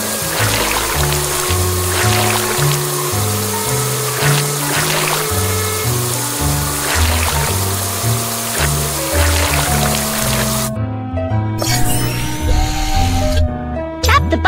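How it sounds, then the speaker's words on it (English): Cartoonish water spray hissing continuously as a bus is rinsed of mud in a children's car wash game, under bouncy background music with a brief voice and a final splashy burst. "drag the water sprayer to rinse off the mud"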